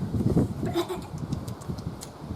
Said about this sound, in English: David was a young shepherd boy. And David, we missed one already, looked after his sheep